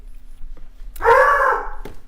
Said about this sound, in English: that's my dog. He got a little excited.